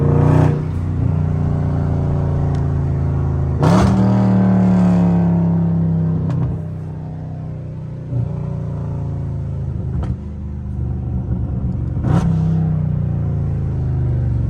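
A loud Dodge Scat Pack engine downshifting in traffic, heard from inside the car: a deep sustained rumble with sharp revving blips at intervals, the throttle rising and settling repeatedly.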